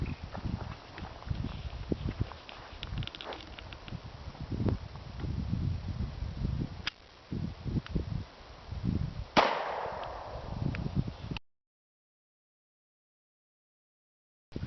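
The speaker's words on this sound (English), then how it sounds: "I'm going to load that into the FNX mag. Get that loaded up. Get Joel in position here. We'll give it a shot." An FN FNX pistol fires a single .45 ACP Federal HST round, a sharp, loud report standing out from faint handling and rustling noise at an outdoor range, followed by silence.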